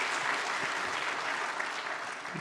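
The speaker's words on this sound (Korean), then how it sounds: "우리 여기 교사들에게 박수 한번 하겠습니다" Congregation in a Korean church applauding teachers at a teachers' dedication service, a steady wash of many hands clapping, moderately distant and even throughout a brief stretch.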